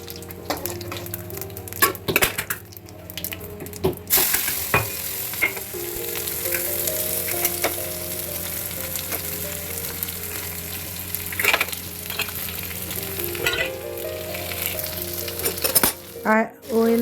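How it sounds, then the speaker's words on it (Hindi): Cumin and onions fry in hot oil in a pan, a loud continuous sizzle broken by the clatter of a stirring spoon and occasional clinks against the pot. "अब मैं ऑयल में थोड़ा जीरा डालूँगी और इसके बाद प्याज भूनूँगी।"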